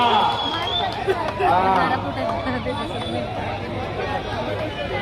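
Spectators at a kushti wrestling bout in Thane featuring Deva Thapa make a dense, steady roar of crowd chatter, with overlapping voices near and far.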